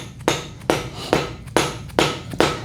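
Dipstick tube being hammered into a first-generation small block Chevy engine: six sharp metallic blows in an even rhythm, each with a short ringing decay, close and loud with no talking.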